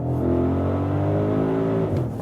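An Audi SQ7 or SQ8 performance SUV engine pulls hard in dynamic mode, a steady loud rising drone with harmonics that holds for about two seconds before the revs ease off.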